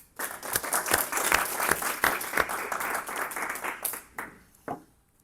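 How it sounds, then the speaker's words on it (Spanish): A short burst of applause from a modest audience, steady clapping that fades out with a few last scattered claps. "Un aplauso, por favor."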